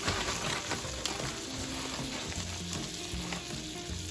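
Chopped pecans cook in a hot pan, a dense, even sizzle with faint stirring, steady and close throughout without voices.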